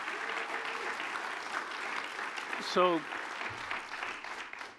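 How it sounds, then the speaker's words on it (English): An audience at an alumni awards ceremony applauds steadily at moderate volume, and a voice briefly speaks over the clapping partway through. "Let's give him a round of applause."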